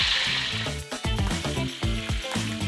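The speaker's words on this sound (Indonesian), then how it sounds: "Sekarang Mak goreng ikan. Ini goreng garing ya," Fish frying crisp in hot oil in a home kitchen, a steady loud sizzle with bubbling and repeated stirring or scraping knocks, no talking over it.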